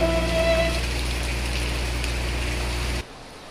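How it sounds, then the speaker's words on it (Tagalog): Heavy rain pours down steadily and loudly, a dense hiss close by that continues without a break before dropping off abruptly near the end. "Guys, lakas-lakas po ng ulan."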